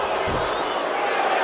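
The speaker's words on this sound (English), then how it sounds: "Steiner drawing a big reaction from the crowd" A wrestling arena crowd in the WWE 2K25 video game gives a loud, steady roar that fills the whole moment, with a dull thud low underneath.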